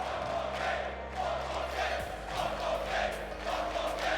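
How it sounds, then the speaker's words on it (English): A large esports arena crowd at a Rocket League major, roaring and cheering steadily in a sustained wash of noise with low hum underneath. "I think the crowd had something to say."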